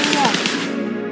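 Rapid gunfire in the video game Madness, a dense, continuous automatic burst lasting about a second, loud and close, with no pauses between shots.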